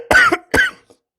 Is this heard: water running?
no